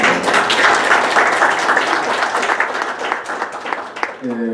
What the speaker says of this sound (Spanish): Un fuerte aplauso para ellos, ¿no?